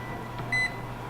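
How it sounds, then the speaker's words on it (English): An oven timer being set gives a single short electronic beep, clear and close over a low steady kitchen hum. "so we're going to set our timer"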